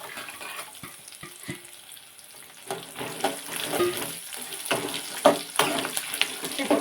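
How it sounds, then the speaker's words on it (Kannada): Garlic frying in a pan: a soft sizzle at first, with a few clinks, then louder crackling and spitting bursts building over the last few seconds. "ಇವಾಗ ನಾನು ಬೆಳ್ಳುಳ್ಳಿ ಹಾಕ್ತಾಯಿದ್ದೀನಿ"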